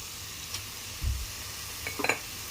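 Low, even sizzle of ginger garlic paste frying in a pan for a boiled egg curry, with a soft thump and a few light scraping stirs over the steady hiss.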